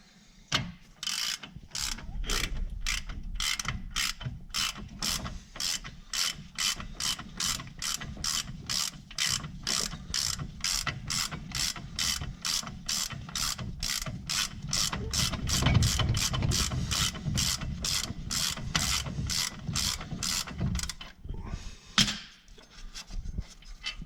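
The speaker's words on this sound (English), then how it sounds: "you have 2 bolts here on the caliper mount. And that we're going to need to ratchet for still." A hand ratchet clicks in quick, steady bursts of pawl ratcheting while loosening the caliper mount bolts on the front brakes of a 2011 Chevy Silverado 1500 LT. The clicking is close and dominant with no talking.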